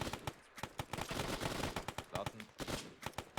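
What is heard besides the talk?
suppressive machine gun fire in a war video game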